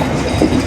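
Banalata Express, a nonstop Dhaka to Rajshahi train, rumbling steadily on the rails from inside a carriage with a faint clickety-clack, brief and continuous.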